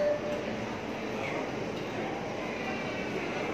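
A metro train rumbles steadily through Plaça Catalunya station in Barcelona on line L1, a loud, continuous roar that fills the underground platform for the whole stretch.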